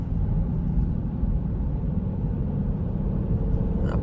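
Low steady rumble of a Dodge Durango R/T with its V8 HEMI engine while driving, a constant drone heard from inside the cabin at an even level with no voices.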